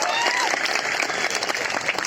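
Dense, sustained applause from a large crowd at a political rally, continuous and loud throughout with a busy mix of many hands and some crowd voices.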